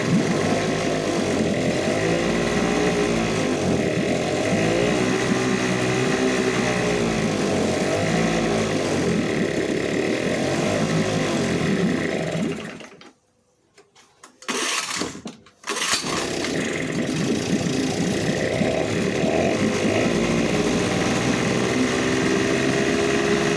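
A Yamaha Suzuki 2.5 hp outboard engine runs on choke with a loud, steady, buzzing drone that close up cuts out briefly partway through before catching again and running on.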